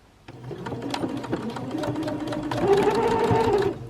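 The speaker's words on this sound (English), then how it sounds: "And I'm sewing directly over the line by keeping the line in the groove in the middle of my presser foot." A sewing machine stitches bias binding with a back tack at each end, a close, rapid mechanical whirr that starts after a brief quiet moment and speeds up toward the end.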